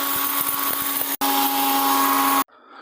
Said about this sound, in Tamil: போதும், இதை நம்ம அரைச்சி எடுத்துடலாம்.